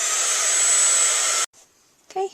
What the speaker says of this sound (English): and use my heat tool.